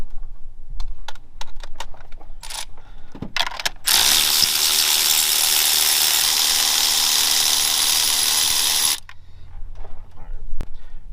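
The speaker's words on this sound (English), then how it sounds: "we'll grab the electric ratchet" An electric ratchet whirs steadily for about five seconds, loud and close, breaking spark plugs free on a 2010-2017 Chevy Equinox, with scattered tool clicks and handling noise before and after.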